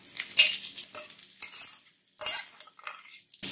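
Carrot rice with curry leaves being stirred in a pan, a utensil scraping and clinking against the metal in several quick strokes with a light sizzle underneath, close and fairly loud, no talking.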